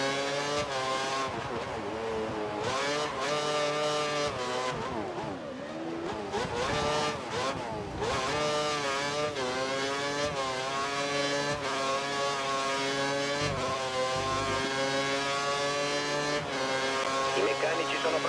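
Formula 1 race car engine from F1 2013 on PS3, a Toro Rosso at the Circuit de Catalunya, droning loudly and steadily with rising and falling revs and gear shifts throughout, with a voice talking over it.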